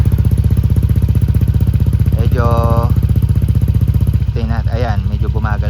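A motorcycle fitted with a 4 Road aftermarket exhaust pipe idles steadily and loudly up close, a busy fast idle with a constant rapid pulse; someone speaks briefly over the engine.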